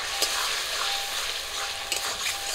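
Ground cumin, mustard, ginger and garlic paste fry in a pan with fried tomato paste, giving a steady close sizzle with occasional stirring scrapes and no talking.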